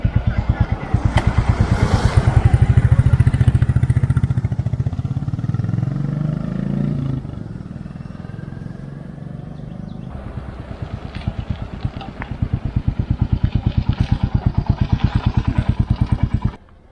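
A Royal Enfield Classic 350 motorcycle is ridden, its single-cylinder engine thumping in a steady rapid beat that swells with throttle, eases through a quieter middle stretch, then picks up again, with a voice talking over part of it.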